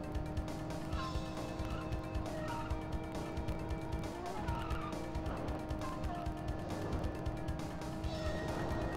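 Arcade racing car in Cruis'n World on the N64, drifting with continuous tire squeal over a busy engine drone and game music, loud and unbroken throughout.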